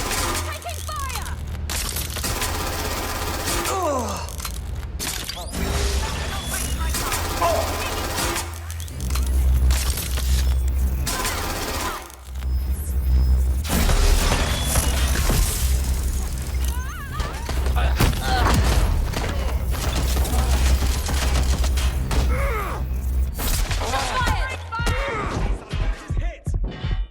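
Bursts of gunfire in a Watch Dogs Legion firefight, loud and sustained with crashes, thuds and shattering mixed in, running for most of the stretch and tapering into sparse hits near the end.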